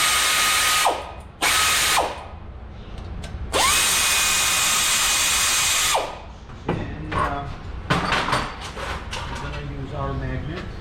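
Bursts of a power ratchet or impact tool loosening brake bolts on a Ram Promaster 3500, several short whirring runs, then clicking and metallic handling, with talk in the background.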